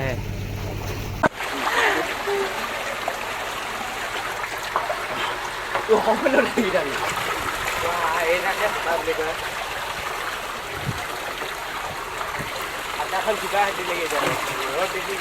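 Water flows and splashes continuously at a bathing spot, a steady rushing wash through the whole stretch, with voices talking over it.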